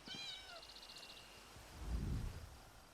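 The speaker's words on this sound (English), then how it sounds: "You did it, Winks. Good kitty." A cat meows briefly and faintly in The Elder Scrolls Online, over quiet ambience and a high chirping tone, followed by a low muffled thump.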